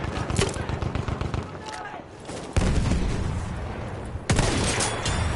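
Gunfire in the video game Battlefield 1, dense rattling bursts and booms filling the mix, loud and close, with abrupt jumps in intensity and a voice talking over parts of it.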